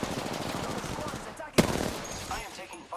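Rapid automatic gunfire crackles through an Apex Legends ranked battle-royale match, a dense continuous barrage with one sharper crack near the middle, close and loud with game effects and a faint voice mixed in.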